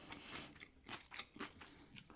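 Crisp, quiet crunching bites and chewing of cucumber noodles topped with salmon, onion and cream cheese, several rhythmic crunches close to the mic with no speech.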